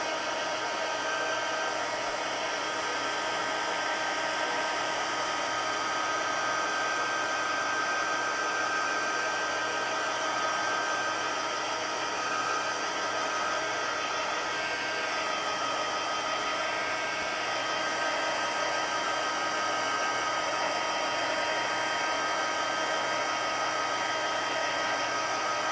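A hair dryer blows a steady, even whoosh, drying wet paint pigments on paper for over twenty seconds, constant and close with no talking.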